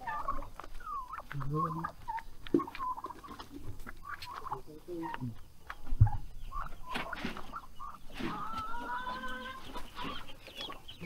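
Backyard chickens, both native and broiler, cluck and call in a rural yard early in the morning, with scattered close clucks and squawks, a sharp knock near the middle, and voices talking softly underneath.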